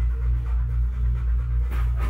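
A dog pants rapidly and steadily at a veterinary clinic in the US, close and fairly loud, with even rhythmic breaths throughout and no talking.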